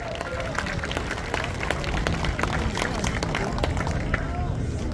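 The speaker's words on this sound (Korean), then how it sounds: "박수로 환영해 주십시오." An outdoor crowd at a Marine Corps reserve rally near the National Assembly station applauds a former vice defense minister, a dense continuous wash of clapping with murmuring voices underneath.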